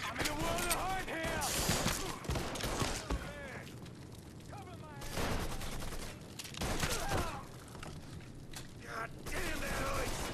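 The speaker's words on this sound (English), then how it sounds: "There's people shooting from fucking everywhere." Gunfire from people shooting in Mafia 3, dense bursts of shots and mechanical clatter that stay loud and nearly continuous, mixed with a voice talking throughout.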